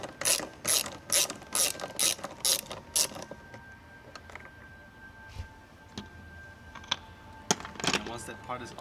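Ratchet wrench undoing a 10mm bolt while a harness bar is installed, a quick run of loud clicking ratchet strokes followed by quieter scattered clicks and tool handling, with a voice talking underneath.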